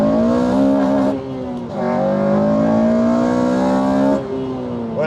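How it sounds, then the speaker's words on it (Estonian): A Honda Civic Type R engine revs hard and climbs into VTEC, the strong rising whine with a brief dip and then a surge, close and loud, ending as the revs drop off near the end. "aga laseme veits VTEC-i"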